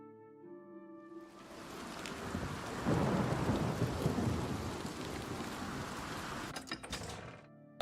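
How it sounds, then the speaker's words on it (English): Steady rain falls with a deep rumble of thunder in the video game Oblivion Remastered. A dense, continuous wash of rainfall swells after a quiet start and holds loud until it ends abruptly. "Of course it's raining,"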